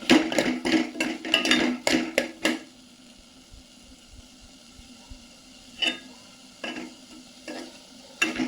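Masala and brinjal being sautéed in a pan: a close, rhythmic scrape-and-stir with a spoon and a soft sizzle, then a quieter simmer broken by a few more stirring scrapes.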